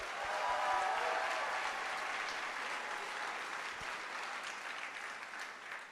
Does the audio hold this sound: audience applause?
yes